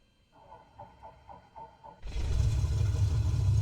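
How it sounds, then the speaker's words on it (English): A simulated Cessna 206H engine starts in a flight simulator game. About six rhythmic cranking pulses from the starter come first, then the engine catches into a loud, steady, low rumbling run. "And we've got a good engine start."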